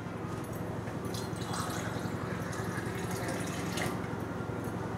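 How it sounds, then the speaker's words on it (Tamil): Water pours into egg butter masala cooking in a pan, a steady hiss with faint drips over a low constant hum. "கொஞ்சம் தண்ணி சேர்த்துக்கிறேன்."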